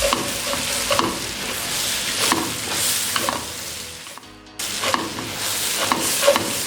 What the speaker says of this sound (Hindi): अब इसको 1 मिनट के लिए अच्छे से भून लेंगे।